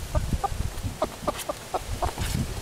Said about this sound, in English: They were like some like wild chickens on the road.